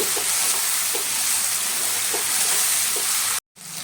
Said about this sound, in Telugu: ఈ రొయ్యలన్నీ వేసుకొని ఒక్క జస్ట్ ఒక టూ మినిట్స్ అట్లా ఫ్రై చేసుకుంటే సరిపోతుంది